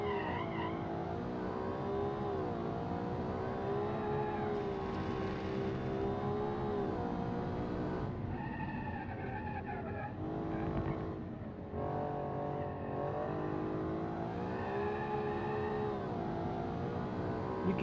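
A test-driven car in a game revs hard through sustained engine drone, rising and falling with gear changes, while tires squeal and skid across several stretches; the steady roar runs on continuously without speech.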